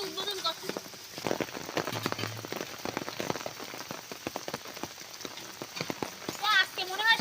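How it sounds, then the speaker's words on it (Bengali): Steady rain falls on a rural village yard, a dense patter of drops striking surfaces with a few sharper splashes, continuous and fairly close throughout. "তো আজকে মনে হয় সারাদিনই বৃষ্টি হবে, বৃষ্টি পড়ার কোনো নাম নেই।"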